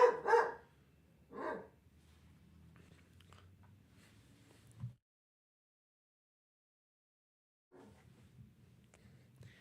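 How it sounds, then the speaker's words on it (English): A dog barks twice at the start, loud and close, followed by a murmur of quiet background sound and a short thump, then a few seconds of near silence before faint noise resumes. "I don't know why my dog is barking right now."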